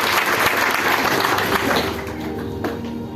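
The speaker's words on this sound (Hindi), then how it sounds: "तो उनके लिए भी एक जोरदार तालियां हो जाए।" Audience applause at an indoor gathering, dense clapping that is loud at first and thins slightly toward the end.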